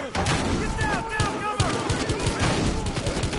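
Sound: gunfire in the video game Battlefield Hardline

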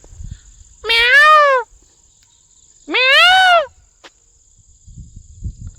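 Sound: peacocks calling

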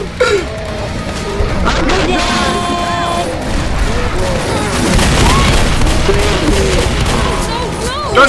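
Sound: gunfire, from video game Left 4 Dead

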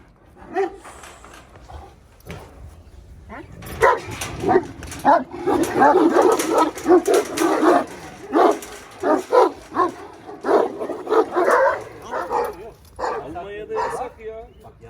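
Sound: dog barking and yipping

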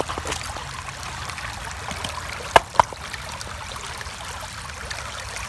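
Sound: creek water flowing

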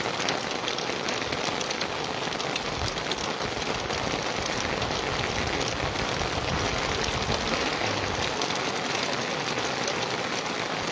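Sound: heavy rain falling

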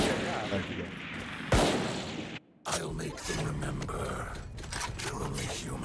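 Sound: gunshots in the video game Valorant

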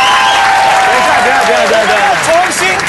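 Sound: staff applause on a game show

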